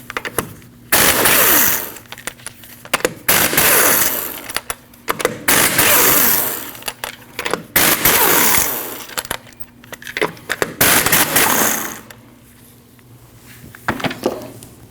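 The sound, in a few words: removing 19mm lug nuts from Subaru Forester wheel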